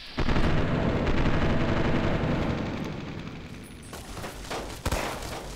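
Gunfire in the Fallout: New Vegas video game, a rapid volley of shots crackling over several seconds with a louder sharp report near the end, set against rumbling game background noise.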